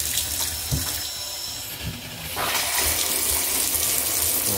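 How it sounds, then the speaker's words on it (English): Shower water starts running after the diverter valve plunger is pulled, a steady rushing spray that swells louder partway through and keeps going, close and alone. "now our shower is working again"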